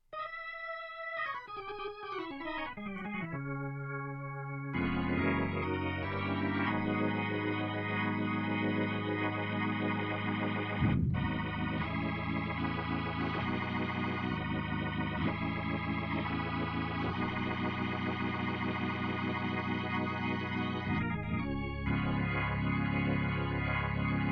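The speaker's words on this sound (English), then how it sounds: "So right now my B3 organ sounds like this." A B3 organ sound on a Roland V-Stage 88 keyboard plays sustained, full chords with a bright, buzzy tone, starting with a few quick runs before settling into held harmonies.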